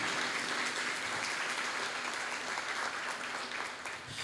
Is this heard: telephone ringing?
no